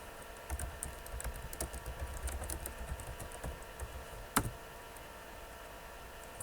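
A chmod command is typed on a computer keyboard during XBee setup on Ubuntu, giving a quiet run of rapid key clicks with one sharper keystroke near the end and no speech.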